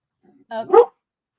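A dog gives a short, close bark-like yelp followed by a louder whimpering howl, together lasting under half a second, with quiet moments around it.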